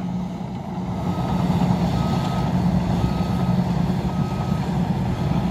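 Teva turf-cutting machine and digger work a bog in Co Kerry, a steady, loud low engine rumble with a faint intermittent beeping on top.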